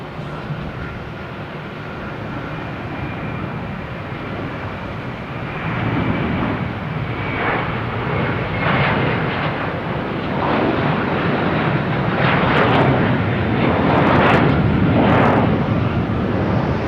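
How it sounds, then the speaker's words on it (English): JetBlue Airbus A321 jet departing Boston Logan Airport, a broad engine roar heard from a distance that swells steadily louder as it climbs away. "There we got JetBlue heading to San Francisco on A321."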